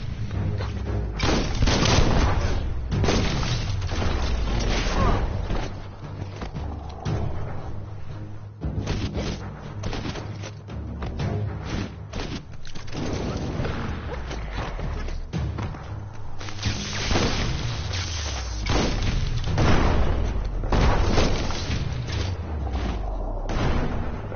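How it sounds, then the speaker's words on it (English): Repeated bomb lobber explosions in Biomutant, a steady run of heavy booms and thuds piling over one another for the whole stretch, dense and loud with barely a pause. "That's a bomb lobber."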